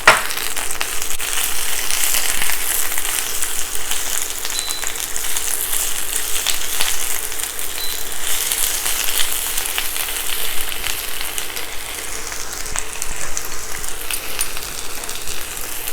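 Fresh spinach frying in olive oil in a hot pan, a loud, steady hiss and sizzle with faint crackles and stirring scrapes running unbroken, close up and without speech.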